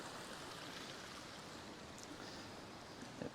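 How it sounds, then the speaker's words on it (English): A small water fountain feature flows into a pond, a faint, steady trickle and splash of running water, continuous and unbroken, with no voices. "See that little water fountain feature here?"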